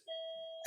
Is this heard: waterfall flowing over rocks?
no